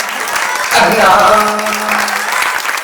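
A crowd at a Hindi comedy poetry recital breaks into applause, a swelling patch of clapping under a poet's voice calling out a word and a sustained vocal tone.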